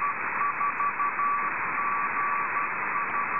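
The WD4GSM/B radio beacon, received from 410 miles away, comes through as a faint on-off tone keying a steady pattern beneath a constant loud band of receiver hiss and static.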